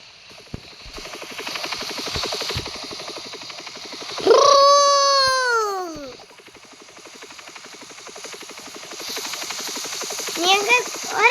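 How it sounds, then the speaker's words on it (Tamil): Helicopter in the Roblox video game flying overhead, a loud rising-and-falling rotor whine that swells for about two seconds amid a buzzing game soundscape, with a brief chirpy tone at the end. "எங்க ஒரு ஹெலிகாப்டர் பறக்க தெரியுதா?"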